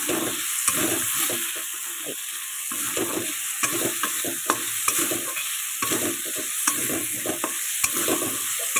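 Shrimp fry in a wok while a spatula stirs them, giving a steady close sizzle broken by repeated scraping and clattering strokes. No one talks.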